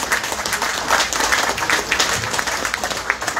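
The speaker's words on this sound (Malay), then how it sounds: "beri tepukan kepada Yang Berhormat Presiden UMNO" A crowd at a Malaysian political rally in Johor claps and cheers in a sustained, dense burst of applause, close and fairly loud throughout.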